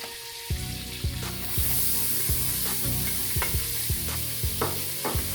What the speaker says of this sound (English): I'm gonna saute that for a moment.